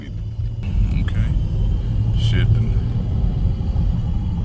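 A 2011 Lincoln MKZ drives along with a steady, loud engine and road rumble, its engine note rising and settling as the transmission shifts through gears, with a person talking over it.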